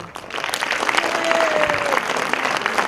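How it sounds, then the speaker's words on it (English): Parents applauding and cheering at a preschool annual day function, a steady wash of clapping from a sizeable indoor crowd lasting several seconds. "we can hear the parents cheering."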